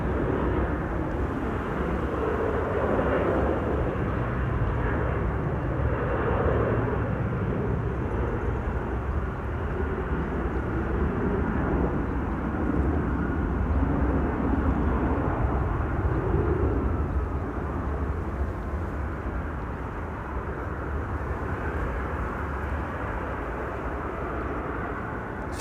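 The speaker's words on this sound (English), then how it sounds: "Next up is KLM flight 1831 to Stuttgart. Embraer 175." KLM Embraer 175 regional jet at Amsterdam Schiphol Airport, a sustained jet engine roar that swells slightly mid-pass and eases toward the end, heard alone without talk.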